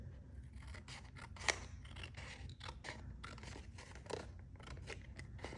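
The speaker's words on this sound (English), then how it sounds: "Maybe I should snip a small portion" Scissors snipping paper for an ephemera collage, a run of close, crisp cuts with one sharper snap early on, alone over a faint background hiss.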